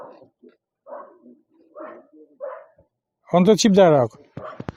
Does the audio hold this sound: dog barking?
yes